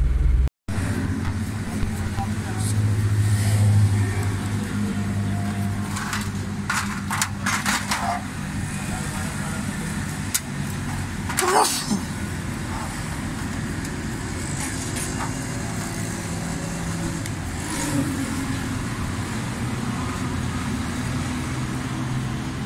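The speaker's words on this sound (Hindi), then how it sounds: "गाड़ी चला रहे हैं, इनको गाड़ी चलाने का मज़ा आ रहा है" A small car with an 800 cc carburetor engine drives along, giving a steady low engine drone with road noise and occasional clicks and rattles. Faint voices come through underneath.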